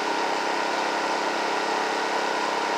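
A Predator 2500 watt inverter generator runs steadily nearby, a smooth, even engine hum with no change in pitch throughout.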